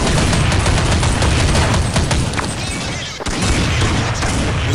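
Gunfire in the video game Counter Strike Online, a dense, loud barrage of rapid shots and booms that runs continuously with a brief dip near the end.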